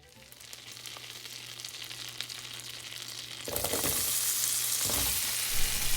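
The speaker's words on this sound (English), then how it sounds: "I've got my sliced mirliton, and I put it in the pan, and I'm going to let all that get coated as I stir it around" Sliced mirliton sizzles in melted butter in a pan as it is stirred, a quiet crackle that swells into a loud, steady hiss partway through, with a few scraping stirs.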